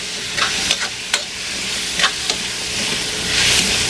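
Pinakbet vegetables with bagoong alamang shrimp paste sautéed in a pan, a steady close sizzle broken by several sharp scraping stirs of a utensil, with a brief hiss swelling at the end.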